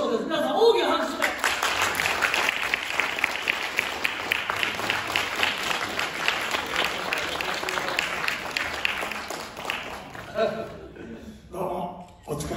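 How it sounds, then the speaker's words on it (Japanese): Warm audience applause greets a manzai comedian taking the stage, a steady roll of many hands clapping for about ten seconds before fading, followed by voices talking briefly. "皆さん大きな拍手で。"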